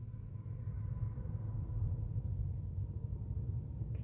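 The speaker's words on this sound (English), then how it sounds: "Can you hear the traffic?" Outdoor road traffic gives a steady low rumble throughout, a distant continuous drone of passing vehicles with no voices.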